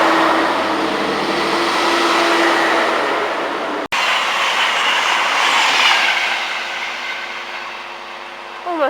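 An express train speeds through Peterborough station, a loud rushing roar with clattering wheels and a brief sharp break, easing off as it passes with some wheel squeal.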